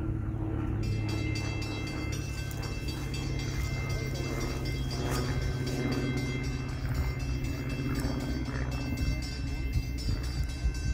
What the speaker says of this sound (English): Got a CSX train coming through.